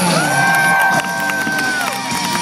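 A fairground crowd at a BMX stunt show cheers and whoops for a rider being introduced, loud and continuous, with shrill children's shouts and a rising whistle-like tone riding over the roar.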